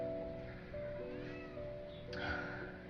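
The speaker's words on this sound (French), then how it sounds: "Et le chat qui continue. Je crois qu'il va falloir faire avec puisque je n'ai pas le contrôle dessus pour qu'il arrête de miauler" A pet cat meows once near the end, clear against a quiet room hum and soft background noise.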